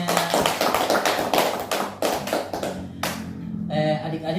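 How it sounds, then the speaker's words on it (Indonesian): A group of students in a school group counseling session claps together in a dense, steady patter for about three seconds. The clapping then fades, and a soft tonal sound carries on to the end. "Tepuk tangan untuk semuanya."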